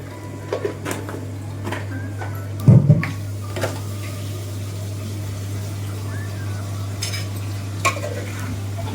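Vegetable palav with spices and salt being stirred in a pot, a few soft scrapes and clinks of a spoon over a steady low hum, with one louder knock near the middle.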